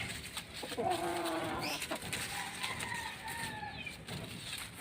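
A chicken kept indoors makes a few short calls and squawks, fairly faint against a quiet room.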